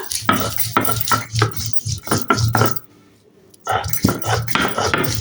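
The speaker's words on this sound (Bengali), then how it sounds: "এভাবে সুন্দর করে মিহি করে বেটে নেব আমি আমড়াটা" Hog plum (amra) is pounded and ground fine for a bharta, giving repeated thudding, scraping strikes in quick bursts that stop briefly for a pause, then resume close and loud.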